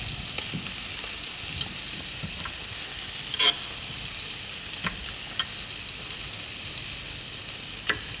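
Frog legs sear in a hot pan, giving a steady close sizzle with scattered sharp pops and crackles, plus one louder clatter partway through.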